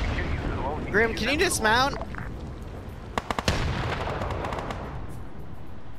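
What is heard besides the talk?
gunfire shooting through a wall, from a video game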